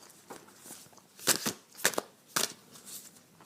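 Tarot cards shuffled by hand in a quiet room, giving soft papery riffles with three sharp bursts of snapping cards spaced about half a second apart. No one talks.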